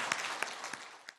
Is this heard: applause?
yes